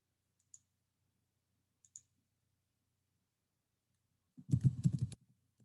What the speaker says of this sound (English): Let me type it out.